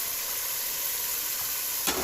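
Minced meat and peas frying in oil in a pan for a keema matar curry, giving a steady soft sizzle throughout with one brief louder burst near the end.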